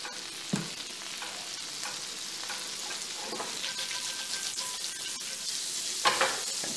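Grass-fed butter sizzling in a pan as the base for a sauce alongside pork tenderloin, with a continuous crackling sizzle broken by stirring scrapes and a few sharper pops.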